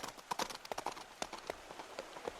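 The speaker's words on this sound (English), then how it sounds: "you hear the sound of horses as carriages are passing you by" Horses' hooves clip-clop irregularly as carriages pass on a street along the River Thames, a quiet scattering of sharp knocks at moderate distance with no talk.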